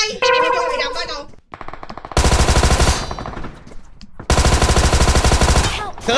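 Automatic gunfire in the mobile battle royale game PUBG Mobile, two long loud rapid bursts separated by short pauses, with game sounds and people talking around them.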